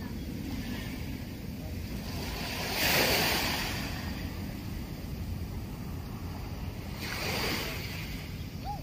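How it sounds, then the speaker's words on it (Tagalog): Sea waves at Manila Bay washing in steadily under a constant rush of wind noise, with two louder surges of surf building and fading, heard at close range and with no one talking. "Nakaka-relax yung alon, no?"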